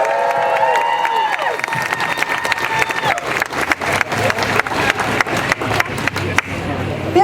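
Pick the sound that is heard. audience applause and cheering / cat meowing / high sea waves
audience applause and cheering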